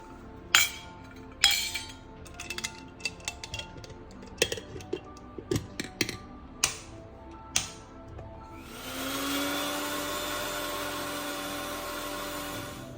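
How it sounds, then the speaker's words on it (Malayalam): Mixer grinder blending coconut and green chili with water for ash gourd pachadi, starting after a series of glassy clinks and taps, then a steady loud whirring hum for the last few seconds with no talk. "ഇതെല്ലാം കൂട്ടി നല്ലോണം അരക്കുക"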